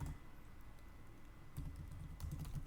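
Keys tapped on a computer keyboard while entering a PowerShell command, quiet irregular clicks close by, sparse at first, then a denser burst of keystrokes near the end.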